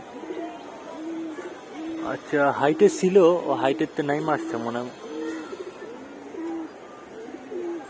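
Pigeons at a rooftop loft coo in soft repeated calls, with a louder cluster of cooing in the middle, while someone talks over them in a nearby voice.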